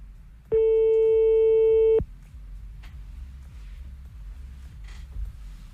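A telephone line gives one steady electronic tone lasting about a second and a half, loud and clean over a low background murmur, then quiet line noise follows.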